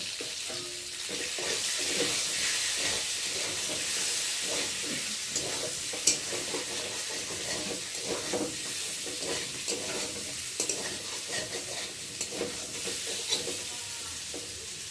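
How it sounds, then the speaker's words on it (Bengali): Eggs frying in oil in a pan are stirred, giving a steady sizzle with scattered scrapes and taps of the utensil against the pan, close up and continuous with no talking. "ডিমগুলো, আর এখন ভালো করে নেড়ে দেবো"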